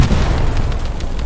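A destroyed garrison explodes in the World War II shooter Hell Let Loose, a loud, deep rumbling boom that rolls on steadily with no clear separate blasts.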